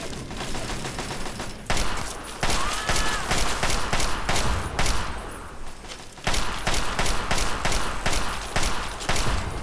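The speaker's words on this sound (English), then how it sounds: "Oh, they're both turrets. Fine. Nice shooting, Fallout Man." Automated turrets firing in Fallout 3, dense rapid bursts of gunfire that repeat loudly through the clip, broken by short pauses.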